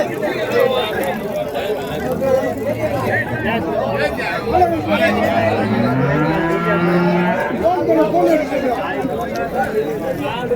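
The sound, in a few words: native bulls mooing at a cattle market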